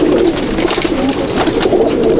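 Andhra Madrasi pigeons in a loft at Howrah coo steadily in low, rolling murmurs, several birds overlapping close by with no pauses across the short stretch.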